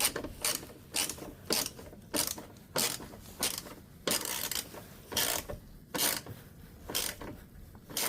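A tool ratchets repeatedly while tightening the bracket of an oil catch can kit on an Alfa Romeo Giulia Quadrifoglio, giving about a dozen short, evenly spaced bursts of clicking, close and fairly loud with no talk.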